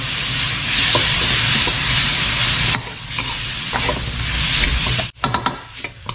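Pork goes into a hot pan with fried chilli and garlic and is stir-fried, a loud dense sizzle that dips partway through, then gives way to clattering spatula scrapes and knocks against the pan.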